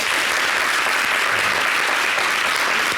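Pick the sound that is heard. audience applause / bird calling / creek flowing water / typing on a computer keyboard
audience applause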